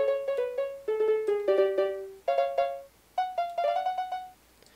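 Note block song from Minecraft, a video game: quick bright plucked tones play in fast rhythmic bursts across several pitches, ending with very rapid repeated notes, clear and alone.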